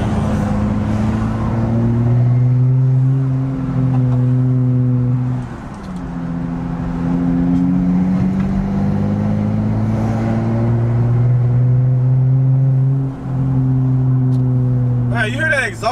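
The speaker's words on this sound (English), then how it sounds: "you hear that exhaust? It does not do that when it's in regular mode." Modded Chrysler 300 exhaust in sport mode, a loud close droning rumble that rises and dips with throttle through several pulls while driving, with people talking inside the car.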